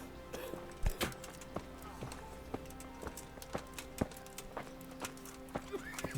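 A horse's hooves clip-clopping in Kingdom Come: Deliverance, a series of distinct, fairly evenly spaced thuds at a walking pace over a faint background hum, moderately close.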